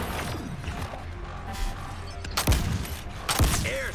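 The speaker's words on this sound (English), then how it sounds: "Airstrike." Airstrike in Suicide Squad: Kill the Justice League: dense, continuous gunfire and crashing explosions, with heavy blasts bursting out around the middle and again near the end of a constant loud battle din.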